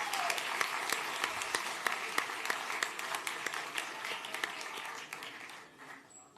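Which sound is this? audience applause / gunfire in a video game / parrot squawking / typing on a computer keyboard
audience applause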